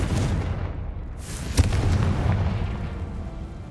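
A Confringo fire spell in Hogwarts Legacy blasts with one sharp, loud boom, set against a low, steady rumble that lingers before and after the explosion.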